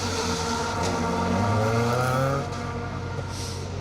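A BMW rally car on a circuit stage at Donington roars through with a loud, rising engine note and shifting pitch, passing close and easing off toward the end, tyres scrabbling beneath.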